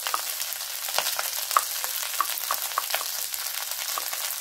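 Rice and tomato paste fry in a pan with a bright, continuous sizzle and scattered small pops, up close and with no voices.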